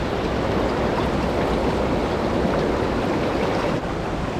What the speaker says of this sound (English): So basically what that'd do is it basically causes a frictionless waterfall.